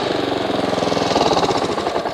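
Honda HRX217 lawn mower engine running steadily nearby, a loud, even, rapid chugging drone with no talk.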